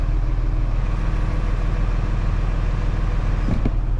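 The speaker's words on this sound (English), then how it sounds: "Now this car coming." A car drives past a truck, its engine and road noise steady and fairly loud against a constant low rumble, with no voices.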